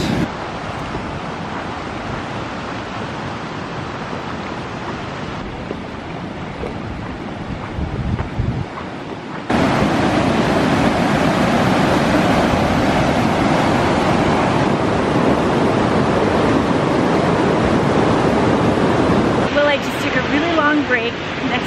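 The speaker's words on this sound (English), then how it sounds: "Bear Creek is looking kind of raging riverish" Rushing water of a swollen Bear Creek running high like a raging river, a loud steady roar heard up close and buffeted by wind on the microphone.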